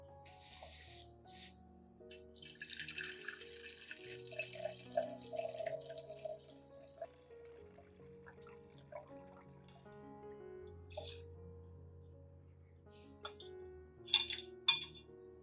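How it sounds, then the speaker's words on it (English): Fermented rice water is poured through a strainer or filtering cloth to remove the grains, with quiet splashing and dripping liquid and a few light clinks, soft and close throughout. "use a strainer or a filtering cloth to remove the rice grains,"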